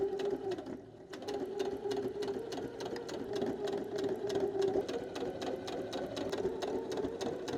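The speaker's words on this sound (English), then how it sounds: "I have to stitch it inside out along this side so that I can make it right side in" A sewing machine stitches felt for Halloween quilt pieces, sewn inside out along one side, running steadily with a rapid, even needle rhythm throughout and a brief slowdown near the start, close and alone without talk.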